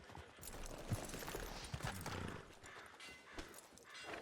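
A horse's hooves clip-clop at a walking pace in the Red Dead Redemption 2 video game, faint and steady, with a few louder thuds among the soft ambient game sounds.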